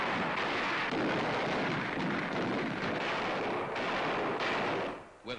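Sustained heavy gunfire and artillery-like rumble from the Marines' push up Mount Suribachi in a World War II battle, a dense, continuous roar of shots and blasts with no talk.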